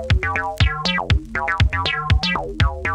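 Early acid house track, made on a Juno 60 synth with high resonance: a bouncy, squelchy bassline of short plucked notes with sweeping filter, repeating in a quick steady rhythm with punchy kick hits, loud and clear, no voices.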